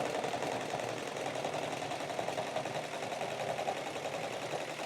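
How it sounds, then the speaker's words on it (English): An embroidery machine stitching a design onto a waterproof hat, running with a fast, even mechanical chatter at a steady moderate level from start to finish. "Just hit the button and the machine's going to stitch out."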